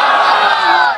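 A large crowd at an outdoor religious sermon gathering roars a loud, sustained unison shout of the takbir response, many voices blending into one brief, forceful cry that fades slightly at the end.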